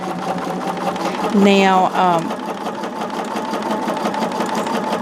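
Sewing machine stitching a quilted fabric heart: a continuous mechanical whir running throughout at moderate level, with a person speaking briefly over it and a short musical tone in the middle.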